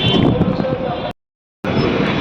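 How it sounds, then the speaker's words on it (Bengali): Strong wind roars and buffets loudly outdoors at night on a street, with a brief dropout in the middle before the gusting resumes. "আর এই যে বেরিয়ে পড়েছি আর প্রবল হাওয়া দিচ্ছে"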